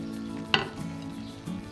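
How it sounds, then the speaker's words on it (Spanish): Curry and tomato sizzle quietly in a frying pan while being stirred, with a sharp utensil scrape against the pan and soft frying crackle in the background. "Lo echamos a la sartén. Y lo movemos todo."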